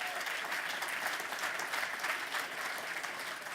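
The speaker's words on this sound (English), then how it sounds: "What about a round of applause for the judges?" An audience at an awards ceremony applauds the judges of a film challenge: a sustained, fairly distant round of clapping that holds evenly for several seconds with no one speaking over it.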